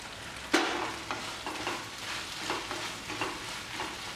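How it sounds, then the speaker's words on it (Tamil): Tomatoes and onions fry in a pan for butter chicken while a spoon stirs them, giving a soft sizzle broken by a series of rhythmic scraping strokes close by, the first one sharper. "இடையில தொடர்ந்து கிண்டி விட்டுருங்க, தூர் பிடிச்சிடாமல்."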